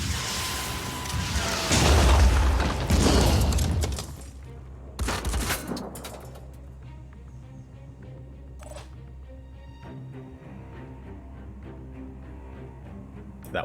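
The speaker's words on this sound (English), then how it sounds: "So I'm probably just bombarding you with missiles." Missile bombardment in the video game Phoenix Point: a dense burst of rapid gunfire and explosive blasts for several seconds, a second short volley, then a quieter stretch with rumbling low tones and a few distant impacts.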